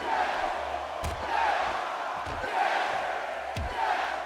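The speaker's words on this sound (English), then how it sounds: "I do like the way the crowd are very interactive with Daniel Bryan as well." A wrestling arena crowd in the video game WWE 2K16 roars and chants in a steady, dense wash, swelling at times, with a few thuds of impacts breaking through.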